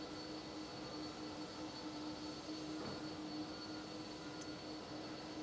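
A LATAM airliner taxiing at Schiphol Airport after arrival gives a faint, steady jet-engine hum with a faint whine, distant and unbroken throughout, no talking.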